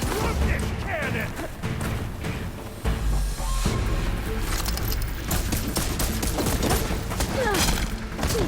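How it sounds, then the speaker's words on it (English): Heavy cannon fire in Horizon Forbidden West, the Burning Shores expansion: repeated loud booming blasts and mechanical crashes over a dense battle mix, with voices speaking at times. "I love this cannon!"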